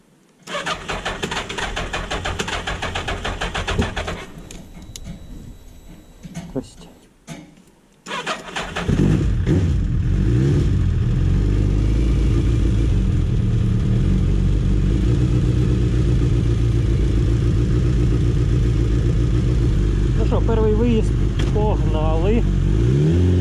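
A Suzuki Hayabusa motorcycle starts for the first time after winter. The starter cranks several times, and the engine then catches and settles into a loud steady idle. A voice speaks briefly near the end.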